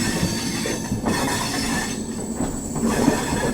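Delhi Pathankot Superfast Express rolling along the track on a journey from Delhi toward Amritsar, loud steady rumble of wheels and carriages with squealing and rattling, heard from on board with no voices.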